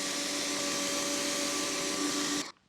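Pressure washer spraying through a 2.5 test nozzle, a loud, steady hissing roar with a fixed tonal whine that holds unchanged, then stops abruptly at the end, no voices.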